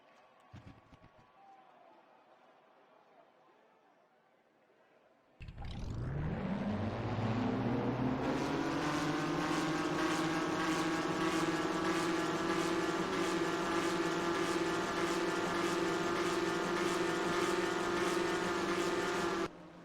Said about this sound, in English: let's get the command to fire engines for the Sharpie 500 at Bristol